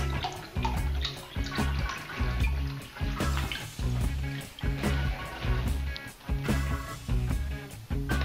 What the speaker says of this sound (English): Down on the wand, spring loaded, fills it right up, lift up and it releases